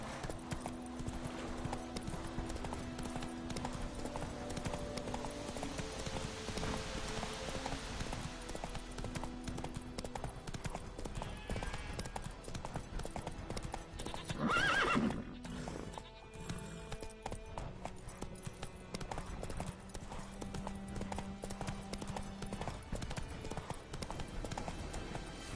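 Roach the horse gallops in The Witcher 3, hooves clip-clopping in a steady, continuous rhythm over game music and ambience, with a brief louder burst midway.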